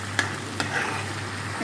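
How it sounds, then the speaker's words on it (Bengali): Whole cumin, dried red chilli, bay leaf and ginger-cumin paste sizzle in hot oil in a frying pan, a steady close hiss broken by two sharp stirring scrapes, with no talking. "ফোড়নে দিলাম হচ্ছে গোটা জিরে, শুকনো লঙ্কা, তেজপাতা আর আদা জিরে বাটা।"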